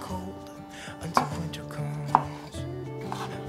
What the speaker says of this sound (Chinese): 把番茄切片